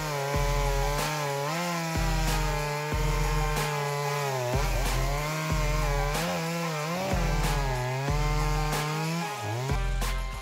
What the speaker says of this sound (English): Small but powerful is the word used to describe the working ability of this Shindaiwa 390SX chainsaw.